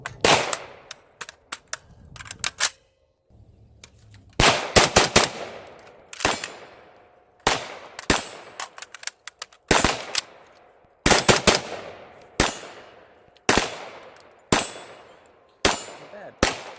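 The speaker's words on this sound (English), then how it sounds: "So we'll fire 3 rounds, we'll go in, we'll refill it, charge it," A Marcolmar CETME L rifle fires loud, sharp shots in short strings of about three, each ringing out, with pauses for reloading between groups.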